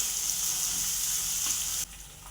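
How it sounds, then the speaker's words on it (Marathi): Onion frying in hot oil with cumin and mustard seeds, a dense, steady sizzle close by that drops abruptly quieter near the end. "कांदा आपण दोन मिनिट चांगला तांबूस रंगावर भाजून घ्यायचा आहे"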